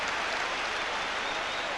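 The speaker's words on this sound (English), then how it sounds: "The Leeds crowd in full voice here, cheering even more if they can score again" A Leeds United football crowd at a 1991-92 match roars and applauds, a dense, steady wash of cheering filling the stadium for the whole stretch.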